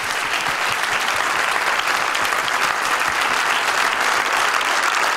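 A crowd applauding at a live concert, steady dense clapping that holds loud and unbroken, with no cheering voices standing out.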